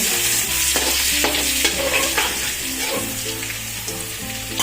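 Garlic, ginger and chili paste sautéing in hot oil for a tempering, a loud close sizzle with repeated stirring scrapes and a low steady hum underneath.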